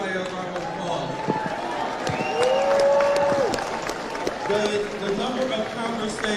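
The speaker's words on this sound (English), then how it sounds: "Let's give everybody a round of applause." A crowd at a political rally applauds and cheers, a broad wash of clapping with whoops and a rising shout in the middle, while a voice carries on speaking over it.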